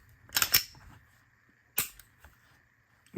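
A striker-fired pistol dry-fires, its striker releasing with a sharp, close metallic snap, followed by a second crisp click and faint handling noises in a quiet room.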